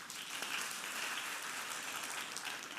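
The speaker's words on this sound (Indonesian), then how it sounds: "Tepuk tangan, saudara." A church congregation claps together during a sermon, a continuous patter of applause heard at a distance and fairly soft throughout.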